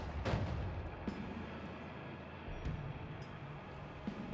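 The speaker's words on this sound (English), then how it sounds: "Explosion damage at that." Explosions in the video game Noita: about four sharp, muffled blasts spaced a second or so apart, each a sudden thump over a steady rumbling background.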